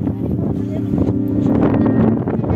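Strong gusting wind in the mountains near Malang buffets the microphone with a loud, low rumble that persists throughout.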